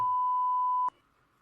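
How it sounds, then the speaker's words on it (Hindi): A multimeter on continuity mode gives one steady, loud beep for almost a second while its probes test an instant water geyser's thermostat, then cuts off to a faint hum. "हमें बीप की आवाज़ सुनाई दे रही है, मीन्स कि हमारा ये थर्मोस्टेट ठीक है।"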